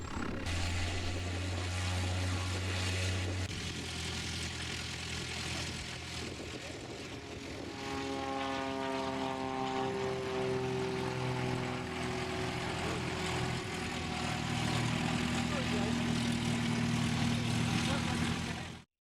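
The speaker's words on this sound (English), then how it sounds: "watch the planes taking off and landing" Propeller planes at an airfield with a club cafe, their steady droning engines shifting pitch as they move, heard at moderate distance with continuous outdoor background noise.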